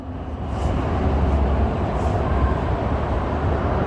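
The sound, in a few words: train at Racecourse station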